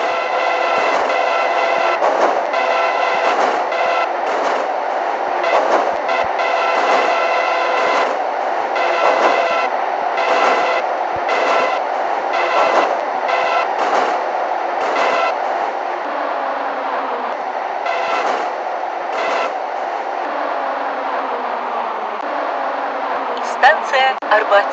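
A Moscow metro train on the Filyovskaya line in a 2D metro simulator game runs with a continuous rumble and rhythmic clatter, under automated station announcements.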